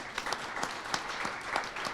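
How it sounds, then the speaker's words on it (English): An audience at a mental health town hall applauds: a mid-level patter of many hands with a few sharper individual claps standing out, steady throughout with no speech over it. "Give her a round of applause."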